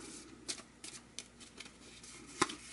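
Playing cards drawn from a deck during an Empires in America board game: faint, sparse papery flicks and slides at irregular intervals, with one crisper snap near the end, over quiet room hiss.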